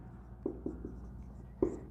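Pen writing by hand on paper while working through an algebra problem, a few short scratchy strokes and taps at close range, fairly quiet, with no talk.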